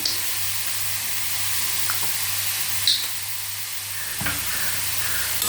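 Radish pieces fry steadily in a little coconut oil, a soft continuous sizzle and hiss with a few faint clinks of stirring, heard alone.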